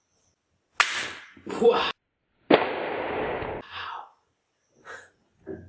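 Toy revolver and pistol firing ball bullets, giving sharp snapping pops followed by a longer burst, with a voice exclaiming between shots; close and fairly loud.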